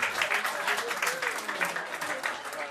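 Dense, bright applause from an audience welcoming the evening's first comedian, Nisse Hallberg, at a comedy show aboard a ferry, continuous with rippling claps and no talk over it.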